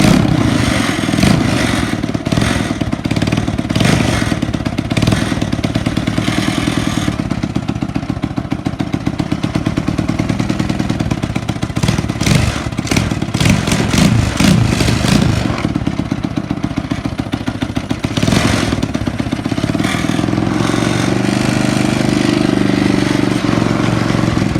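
250cc racing lawn mower engine with a slightly sticking choke, revving loud and close in bursts of rapid clattering pulses, rising and falling repeatedly without speech.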